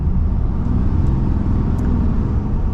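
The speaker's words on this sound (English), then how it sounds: "You can hear the engine, so it's got some noise." A 2023 RAM 2500 Rebel heavy-duty diesel truck engine drones steadily while driving, a constant low rumble with road noise heard from inside the cab, no voices over it.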